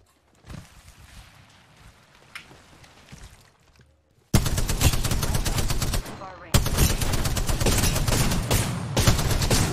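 Rapid automatic gunfire from the battle royale shooter Apex Legends, loud dense bursts starting midway and running almost continuously, after quieter in-game movement and scattered sounds.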